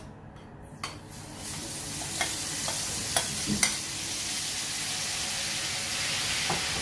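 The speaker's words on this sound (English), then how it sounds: "Put your Kelewele into the oil." Spiced plantain pieces (kelewele) frying in oil in a pan over low heat, a continuous dense sizzle that swells after they drop in, with a few sharp pops and crackles; a faint murmur near the start.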